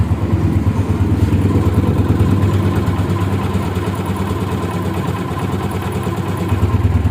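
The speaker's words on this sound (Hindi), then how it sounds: "इंजन की आवाज़ भी आप सुन रहे होंगे।" A Honda CG 125 motorcycle engine in like-new condition idles steadily and smoothly, a close, even low rumble with a faint clattering texture and no voices.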